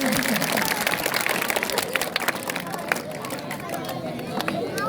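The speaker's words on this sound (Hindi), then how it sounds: "अरे ताली तो बढ़िया बजाओ यार, ताली बजाने का कंपटीशन" A crowd of students claps at a school Navratri lamp ceremony, a loud, busy patter of many hands with scattered chatter and babble mixed in.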